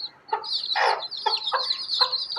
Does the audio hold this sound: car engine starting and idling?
no